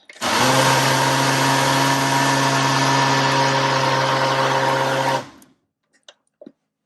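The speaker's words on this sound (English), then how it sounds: "Okay, I'll grind it all together." A kitchen grinder whirs steadily for about five seconds, blending ginger and lemon together, then cuts off, leaving a few faint clicks.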